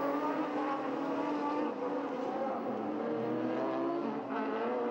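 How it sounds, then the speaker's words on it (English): A Peugeot 307 rally car powers through its joker lap at a rallycross round, engine droning steadily with shifting revs, close and loud and continuous with no voices. "Guilherme goes for his Joker lap in the rarest of rally cars"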